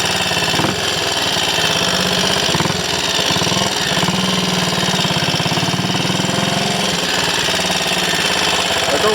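A Triumph Scrambles Cub replica motorcycle engine runs steadily throughout, a loud, close, continuous chugging idle with a rapid knocking beat and no voices over it.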